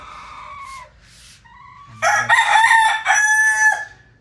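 A four-month-old McLean bullstag crows loudly and close by, a strained, uneven cock-a-doodle-doo following a few softer clucks and calls.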